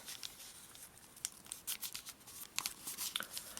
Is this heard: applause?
no